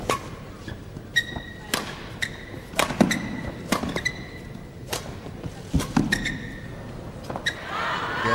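Racket strikes on a shuttlecock during a men's singles badminton match in an arena, sharp isolated hits and thuds at irregular intervals between players' footsteps, under faint crowd ambience.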